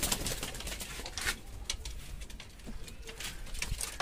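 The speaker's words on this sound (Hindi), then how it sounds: "ये कबूतर आए हैं रमन के घर से," Pigeons coo softly in a rooftop loft, low repeated coos mixed with light fluttering and pattering, moderately quiet and close.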